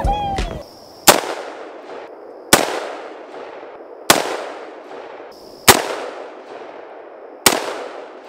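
Guns are fired outdoors on a rural property: five loud, sharp single shots spaced roughly one to two seconds apart, each with a long echoing decay, preceded by a brief voice.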